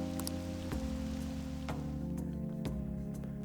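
Steady rain in the video game Persona 5 Royal, a faint even patter behind a low hum of background music, with a few soft ticks scattered through.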